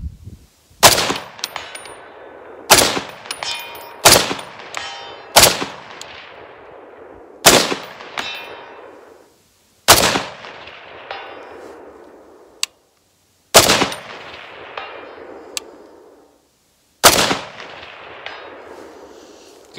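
An M1A SOCOM 16 rifle fires single shots at steel targets about 100 yards away, each loud sharp crack followed by a decaying echo, roughly seven shots at uneven intervals.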